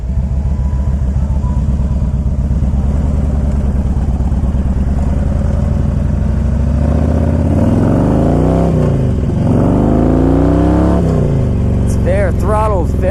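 A 2000 Harley-Davidson Electra Glide Classic motorcycle rumbles steadily while riding, its engine note rising loud and close as it accelerates, with wind noise over the whole run.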